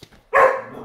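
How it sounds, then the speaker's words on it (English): A house dog lets out a single sharp bark that trails off briefly, heard close up in a kitchen while oatmeal is made in a Thermomix, after a moment of quiet. "would you let the dog outside?"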